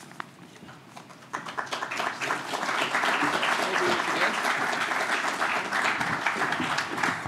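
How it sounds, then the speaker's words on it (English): Light, polite golf-clap applause from a news conference audience for a baseball coach's introduction, a thin patter that swells after the first second and holds steady, moderately near, with no talk. "Thank you for that golf clap."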